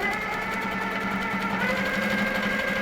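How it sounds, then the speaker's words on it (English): A sewing machine stitches fabric in a steady, continuous whir, close and loud, running throughout without talk. "I need to stitch this bit."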